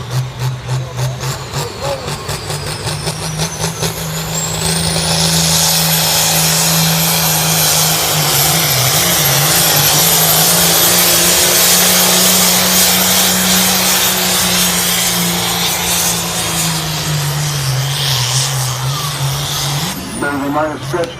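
A factory-turbo Ford tractor from the 9,000 series bellows through a hot farm class pull, a loud sustained engine roar rising at launch and holding steady for most of the run before dropping off near the end, with an announcer talking over it.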